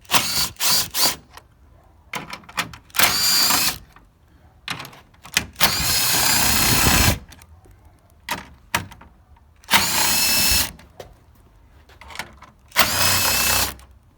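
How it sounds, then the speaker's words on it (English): Power drill bursts backing out 10 mm screws along the top of a 2020 Chevy Suburban grille, several separate whirring runs of a few seconds each, close and loud, with clicks and handling noises between them. "now you'll take out the 10 millimeter screws on top of the grill"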